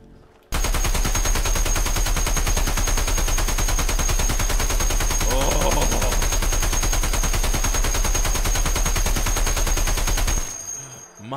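A .50 caliber NSV heavy machine gun fires in a video game, one long sustained burst of rapid, evenly spaced shots lasting about ten seconds, loud and close, with a steady high tone running underneath.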